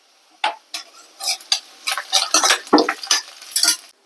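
Knife on a cutting board finely chopping mustard greens for sarson ka saag, a string of crisp irregular taps and scrapes at close range with no talking.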